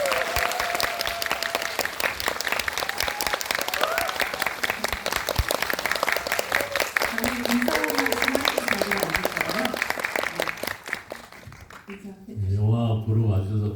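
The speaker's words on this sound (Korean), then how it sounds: "큰 박수 부탁드립니다." An audience at a film screening Q&A applauds to welcome the director, sustained dense clapping that fills the hall before dying away, followed by a voice speaking.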